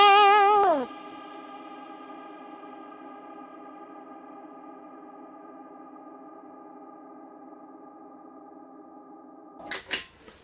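Guitar through a Neunaber Immerse reverb pedal with depth at full: a brief chord attack at the start melts into a long, steady shimmering wash that hangs without decaying for about nine seconds before a short burst of new sound at the end.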